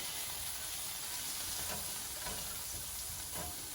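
Fried rice with a dot of soy sauce sizzling in a hot pan, a steady close hiss and crackle of frying with faint stirring scrapes and no voices.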